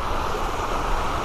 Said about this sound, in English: This is a spillway where the lake dumps into this little creek